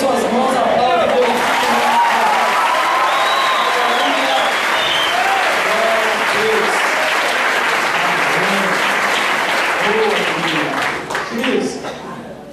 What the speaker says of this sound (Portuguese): Levante as suas mãos, aplaude Deus.